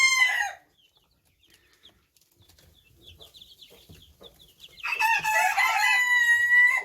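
Chickens in an aviary with Cochin bantams: a short burst of clucking, then quiet scratching and faint chatter, and finally a long, loud rooster crow held close by.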